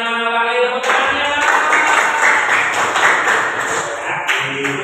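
A classroom group claps hands together in a loud, dense burst of clapping, with some tonal chiming sounds at the start and end.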